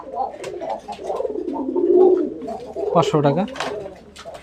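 Native desi pigeons coo at a pigeon farm, soft rolling calls rising and falling near at hand, while someone talks over them.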